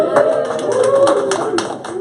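A small group claps in scattered bursts at the close of a gardening show, with voices talking over the uneven claps throughout.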